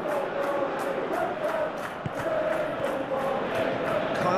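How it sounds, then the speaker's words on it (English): A stadium crowd in the PES eFootball 23 video game roars and cheers in a steady wash of noise, with a rhythmic chant pulsing through it and faint commentary voices beneath. "the crowd certainly approved"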